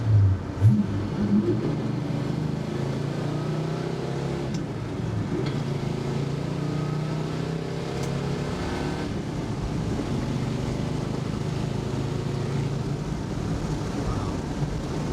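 1966 Pontiac GTO with a 389 Tri-Power engine and 4-speed pulling hard from inside the car, a continuous low engine drone with rising revs and gear changes under wind noise.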